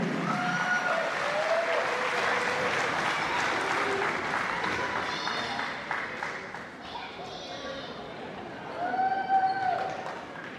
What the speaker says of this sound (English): Please join me for one more round of applause for our 3 sophomores